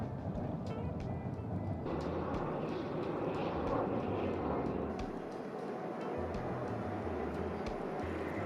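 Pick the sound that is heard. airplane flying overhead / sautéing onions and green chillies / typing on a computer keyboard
airplane flying overhead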